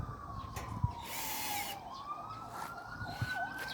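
A siren, apparently from a fire engine, wails faintly in the distance with a slowly sliding pitch over steady background noise.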